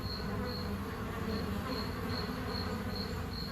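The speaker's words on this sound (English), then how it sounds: "And mosquitoes." Mosquitoes buzz in a steady, continuous insect drone, with a thin whine pulsing faintly above a dense, even hum that holds throughout without pauses or voices.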